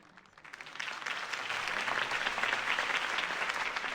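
A crowd applauds after a campaign speech in Batman: The Telltale Series, clapping swelling in over the first second and holding steady and dense, with no voices over it.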